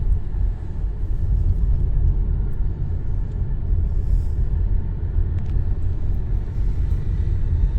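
Car driving slowly through the narrow streets of Kotor, heard from inside as a steady low engine and road rumble throughout, with no talk.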